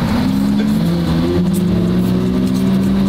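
A car revs hard at the line of a drag race, a loud, continuous engine roar with rising and wavering pitch, heard up close from inside or beside the vehicle.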